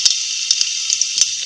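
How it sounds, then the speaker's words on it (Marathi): Cumin seeds spluttering in hot oil for a tempering for urad dal ghoota: a steady bright sizzle broken by several sharp, close crackling pops spread unevenly through the sound. "जिरं तडतडलं"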